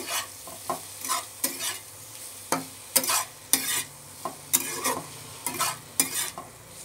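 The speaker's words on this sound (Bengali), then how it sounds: "আবারও একটুখানি নেড়ে নেব খানিকক্ষণ।" Ingredients for a stew, with a little sugar added, are stirred in a frying pan, giving repeated scraping strokes over a soft, steady sizzle in an uneven rhythm of short bursts.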